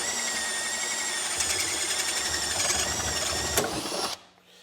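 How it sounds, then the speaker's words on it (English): A power drill fitted with a paddle bit bores a 1 5/8 inch hole through the front of a motorcycle saddlebag, a steady high whine with grinding texture running continuously for about four seconds before cutting off abruptly. "in this case, a paddle bit, and we're gonna drill a hole right here at the front of the bag"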